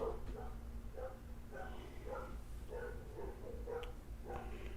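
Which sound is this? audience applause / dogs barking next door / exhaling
dogs barking next door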